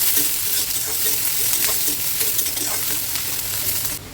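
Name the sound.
onions frying in pan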